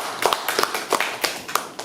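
Applause for reporters at a Korean press meeting on a coal power plant, a brief burst of many hands clapping close and loud in a quick irregular patter, with no talk over it.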